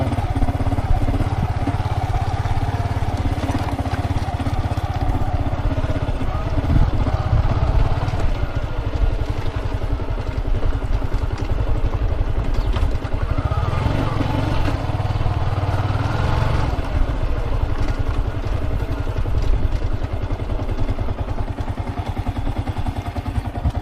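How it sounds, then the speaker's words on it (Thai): A dirt truck arrives at a riverbank wall construction site, its medium engine running and rumbling steadily and loudly nearby with clattering, no voices over it. "รถดินเพิ่นมา"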